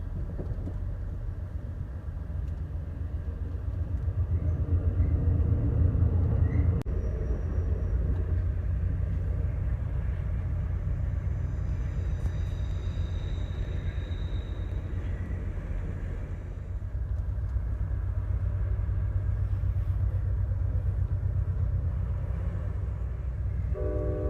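Amtrak's Coast Starlight passenger train running through curves among rolling hills, a steady loud rumble of wheels and cars, with faint high flange squeal and a brief distant horn-like tone partway through.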